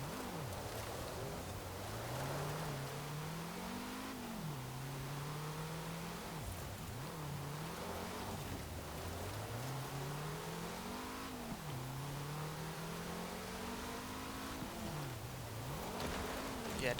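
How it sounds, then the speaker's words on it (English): A car engine in Forza Horizon 4 revs hard through repeated gear changes during a retro rally race, the pitch climbing and dropping again and again, loud and continuous with no speech. "it's still a fairly decently quick car. Nice and high revving as well."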